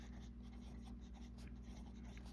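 A Wordsworth & Black fine tip fountain pen scratches steadily across paper, a soft, close, continuous writing sound over a low background hum, with no voices.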